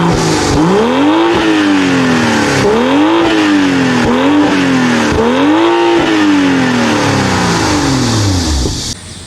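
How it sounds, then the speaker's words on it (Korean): A 2023 BMW M340i Touring xDrive, its 2998cc inline-six turbo petrol engine driving through an 8-speed automatic, revs hard and loud, climbing and dropping through repeated quick upshifts for about nine seconds before cutting off. "직렬 6기통 가솔린 터보 엔진이 장착되어 있습니다."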